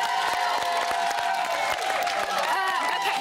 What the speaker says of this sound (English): give a round of applause for our first set of evictees